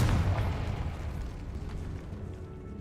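In Hogwarts Legacy, the Confringo spell detonates with a loud, deep blast that rolls off into a fading rumble over about three seconds.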